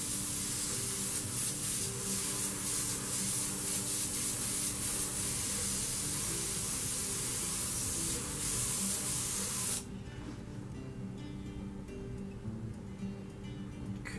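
An airbrush sprays paint onto an RC car body in a steady, close hiss that runs unbroken and softens partway through.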